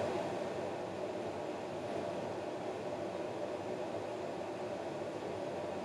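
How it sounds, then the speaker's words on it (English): A laser cutter running a job in the background of a workshop gives a steady, unbroken broadband hum and whir, continuous and even in level throughout, with no talk. "There's a laser cutter job that's been running the whole time in the background"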